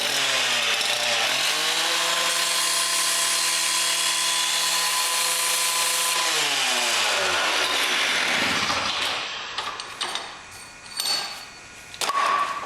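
A power tool whines loudly with a steady pitch that slides up and down as it cuts through a cheap wrench during a truck diesel swap. It then drops into rough, intermittent grinding and metallic bursts.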